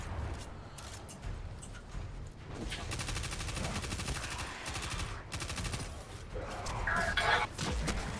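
Weapon fire in the shooter game Destiny 2, including a grenade launcher: rapid sustained volleys of shots and impacts over several seconds, loud and dense, with a few brief pauses and a sharper burst near the end.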